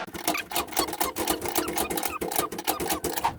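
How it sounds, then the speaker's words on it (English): A garage door torsion spring is wound, giving a fast, steady run of close mechanical ticking and ratcheting clicks with a metallic edge, alone and continuous. "Now he's gonna wind the spring."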